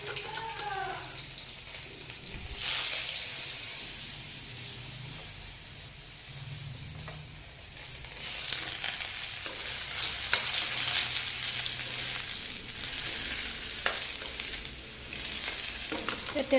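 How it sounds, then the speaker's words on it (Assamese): Potatoes frying in hot oil in a wok, a steady close sizzle with bursts of stirring and scraping through most of the stretch; no one speaks. "এয়া ফাৰ্ষ্ট আলুখিনি ফ্ৰাই কৰি ল'ম।"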